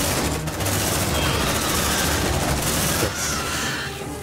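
Squad weapons in the video game Aliens: Dark Descent fire in dense, rattling bursts that run almost without pause, loud and close, with voices faintly underneath.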